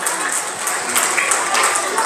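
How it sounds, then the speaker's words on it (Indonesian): A crowd claps steadily at an Islamic kindergarten graduation ceremony, a dense patter of many hands, with a few voices faintly mixed in. "tepuk tangan buat anak kita"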